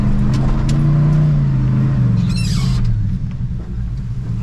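2WD Chevy C20 truck engine pulling in second gear with a deep, loud, steady rumble and slight rise in revs, close and continuous, easing slightly toward the end.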